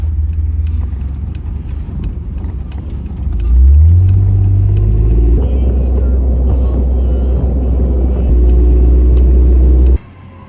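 Jeep cruising down the highway, a loud, close low rumble of engine and road noise that swells as it accelerates midway and holds steady before cutting off abruptly near the end.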